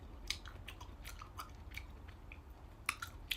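Close, crisp crunches of someone chewing food during a light dinner, irregular bites and mashing with small clicks, quiet and without talk.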